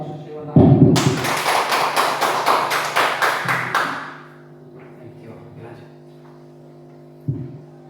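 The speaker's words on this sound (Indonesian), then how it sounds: "Mari kita bertepuk tangan, kita berikan aplaus kepada Bapak." Audience applause closing a school positive-culture event: a dense burst of clapping swells in for about three seconds, then fades into a low room hum with scattered faint taps and one short thump near the end.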